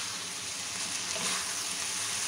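Boiled noodles being stirred and mixed in a hot pan, a steady close sizzle and frying hiss throughout with faint scraping underneath.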